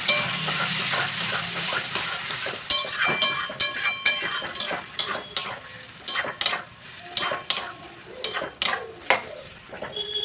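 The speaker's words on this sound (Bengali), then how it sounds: "আবারও মশলার সঙ্গে ভালো করে একটু নাড়াচাড়া করে নিচ্ছি।" Okra tossed with spices in a frying pan, a utensil scraping and knocking against the pan in a quick, uneven rhythm over a steady sizzle, loud and close.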